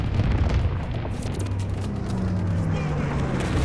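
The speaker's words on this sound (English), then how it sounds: "Dropping incendiary." Incendiary bombs from a bomber killstreak in Call of Duty WWII multiplayer pound the ground in a continuous heavy, rumbling roar of blasts, loud and dense throughout, with faint voices mixed in.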